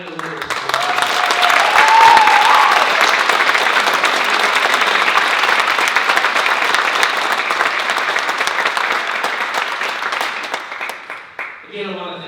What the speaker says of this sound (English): Please join me in applauding all the nominees and the winners.